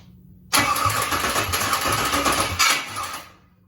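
After a moment of quiet, the starter on an LS swap engine cranks loudly and steadily for about two seconds, with a rhythmic churning chug, then winds down without catching.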